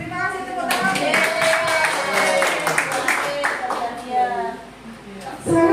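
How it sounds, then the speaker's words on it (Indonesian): Students in a classroom in Mojokerto clap together in a burst of applause, a busy patter of many hands close by that thins out toward the end, with voices speaking over it. "Terima kasih, tepuk tangan."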